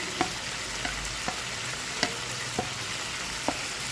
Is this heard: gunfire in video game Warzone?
no